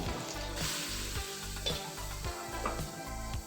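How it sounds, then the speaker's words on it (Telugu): Grated carrots fry in ghee for carrot laddu, producing a steady close sizzle, with soft stirring scrapes roughly every half second and a low rhythmic hum underneath. "ఇప్పుడు క్యారెట్ అందులో వేసి బాగా వేయించుకోవాలి"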